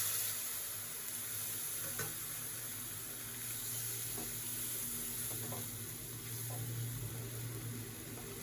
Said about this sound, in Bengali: হলুদ আর লঙ্কা গুঁড়োর জলটা ঢেলে দেবো এবার